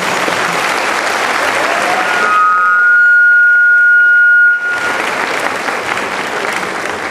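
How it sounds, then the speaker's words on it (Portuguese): Audience applause at a Portuguese-language seminar on campeiro culture and tropeirismo: loud, dense clapping that breaks off mid-clip into a pause with a steady electronic tone, then swells back just as strongly. "Uma grande salva de palmas a esse povo aqui que ele merece."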